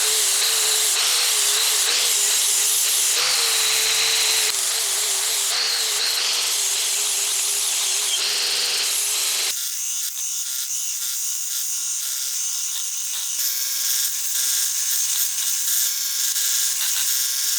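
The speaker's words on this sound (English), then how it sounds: "I'm going to switch over to using an angle grinder with one of these abrasive flap discs with a really heavy grit" Angle grinder fitted with a coarse 40-grit abrasive flap disc shaping wood for a primitive stone thrower, a loud continuous high whine and gritty abrasive hiss that shifts in tone partway through.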